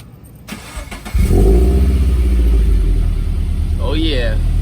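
A Scion FR-S fitted with Tomei unequal-length headers cranks and fires, then settles into a loud, steady, throaty idle close by, with a voice briefly heard near the end.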